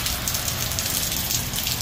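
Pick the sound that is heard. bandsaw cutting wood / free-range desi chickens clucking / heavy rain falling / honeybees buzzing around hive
heavy rain falling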